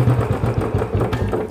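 Royal Enfield Bullet motorcycle engine idling close by, a steady low thumping beat with regular pulses throughout.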